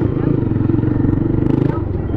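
A motorcycle engine runs close by with a fast, pulsing putter, loud and steady for a couple of seconds, the rhythm turning choppier near the end.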